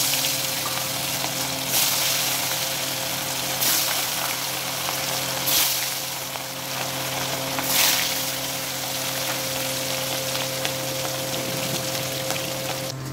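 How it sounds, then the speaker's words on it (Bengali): Fish frying in a pan of oil in a home kitchen, a continuous hissing sizzle with steady low hum underneath and a few brief louder spurts of spattering. "মাছ ভাজাটা আমি বসিয়ে দিয়েছি"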